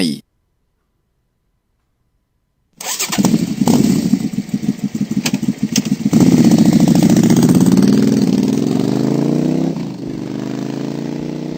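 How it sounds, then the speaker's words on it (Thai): A motorcycle engine starts after a short silence and runs steadily, idling with a rough, rhythmic putter that swells slightly before settling. "เสียงปริศนาที่5เสียงมอเตอร์ไซค์"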